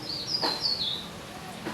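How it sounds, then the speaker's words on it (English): Birds chirp outside a window: a few thin, high tweets close together near the start, with one faint chirp later over quiet room noise. "meditating to hear these birds now"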